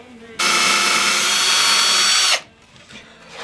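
An electric drill fitted with a flap sander grinds into the wood of a cigar box guitar, a loud, steady whine lasting about two seconds that stops abruptly, then faint handling noises.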